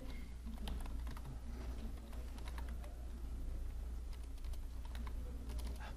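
Rapid, steady clicking of a computer keyboard being typed on, close and continuous over a low hum, with no pauses.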